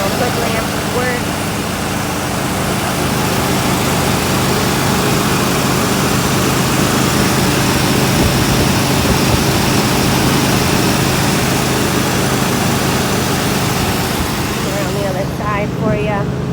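A 1982 Chevrolet Corvette with crossfire injection idles nearby, a steady loud engine rumble filling the whole stretch, with a brief mechanical clatter near the end.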